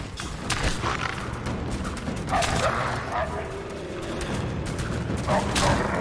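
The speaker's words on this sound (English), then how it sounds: "There might be another alive. I heard growling." A wolf in the Rise of the Tomb Raider video game barks and yips in several sharp bursts over a dense, noisy game soundtrack with rumbling ambience, moderately loud and fairly close.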